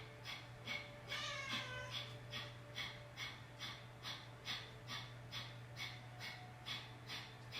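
Forceful bellows breathing during a yoga exercise: a rapid run of sharp, rhythmic exhales through the nose, roughly two per second, close and steady over a low hum, after one longer inhale at the start.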